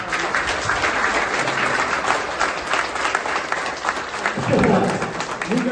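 An audience claps for parents being honoured at a scholarship aid event for students, a steady wash of applause that swells slightly toward the end, with crowd murmur underneath.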